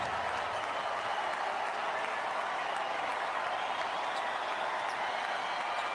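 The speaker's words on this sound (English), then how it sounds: "Crowd giving its approval to Jimmy Butler and the Miami Heat" Crowd at an NBA basketball game in Charlotte, Hornets hosting the Miami Heat, cheers and applauds in a steady, broad roar heard from a distance throughout.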